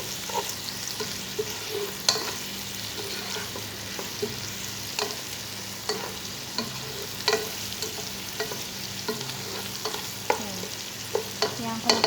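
Onions frying in a pan for Kabuli pulao, a steady close sizzle with repeated sharp scrapes and clinks of stirring scattered throughout, heard without talk.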